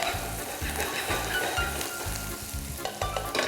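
Finely chopped green chilies hitting a hot pan of spinach gravy mixture, a bright continuous sizzle with rhythmic stirring scrapes underneath, close and fairly quiet.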